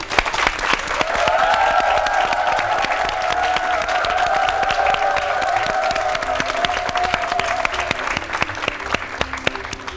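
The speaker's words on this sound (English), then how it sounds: "Let's give him a round of applause." Loud, sustained applause from a quiz show studio audience, dense clapping filling the space for the full stretch, with a faint held tone underneath.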